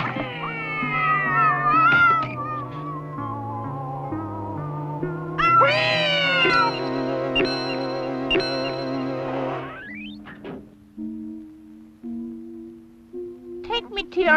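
The Cosmic Cat, a cartoon cat character from a 1970s–80s children's TV show, lets out loud, drawn-out, warbling meows over a swelling musical score, with tones sliding up and down before quieter sustained notes.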